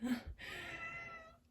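A house cat gives a single drawn-out meow, quiet and somewhat distant, rising then trailing off over about a second.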